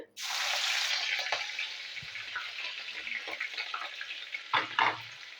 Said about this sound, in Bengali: আর ফোড়ন দেবো কাঁচা লঙ্কা আর কালো জিরে